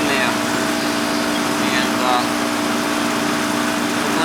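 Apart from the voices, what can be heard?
18-year-old Goodman AC unit running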